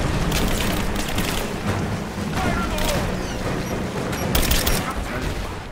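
Grenade explosions and heavy gunfire in the Rise of the Tomb Raider video game, forming a dense, continuous barrage with several sharper blasts bursting through the noise.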